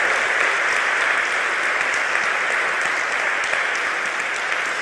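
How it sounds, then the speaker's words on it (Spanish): A church congregation applauds steadily and loudly, dense clapping from many hands at a baptism celebration, continuous throughout with no pauses. "Un gran aplauso"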